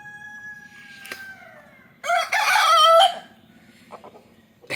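A country rooster crows once, loud and close, in a single drawn-out call, with softer hen clucks and other chicken sounds from a farmyard around it.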